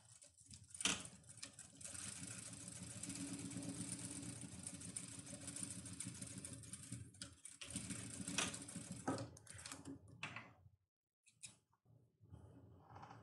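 A sewing machine runs a safety seam using stitch setting number 3, a steady close mechanical whirr of rapid stitching that carries for about ten seconds before stopping, followed by a few faint handling sounds.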